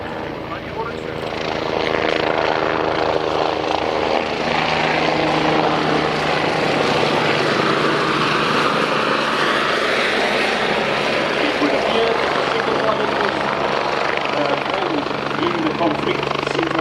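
A BK helicopter breaks formation to pick up a pilot during a mock war display at an air force airshow, its rotor drone loud and steady throughout after a brief rise at the start.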